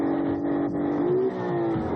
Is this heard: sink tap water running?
no